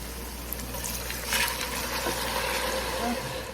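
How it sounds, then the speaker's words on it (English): A cup and a half of water poured into a Ninja Speedi cooker pot, a steady, close trickling stream running for a few seconds without talk. "after you get that in, you need to add in the water. This is a cup and a half."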